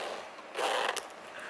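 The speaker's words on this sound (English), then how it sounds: "I can really be annoyed if a zipper doesn't go smooth. This is a very nice one." Zipper of a leather cigar case being opened, one short smooth zip sliding across close by in a quiet room.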